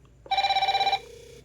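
A DT Watch X smartwatch rings for an incoming Bluetooth call: a rapid electronic trill of about ten pulsing beeps in one burst, close and fairly loud, followed by a faint lingering tone and quiet.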